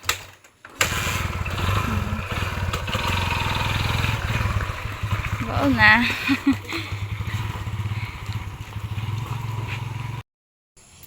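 A motorcycle engine runs close by with a steady throbbing putter, then pulls away down a road, while people talk briefly over it before the sound cuts off abruptly.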